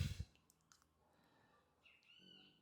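A computer mouse gives a few sharp, quiet clicks in an indoor room, with one louder burst at the start followed by soft, sparse taps.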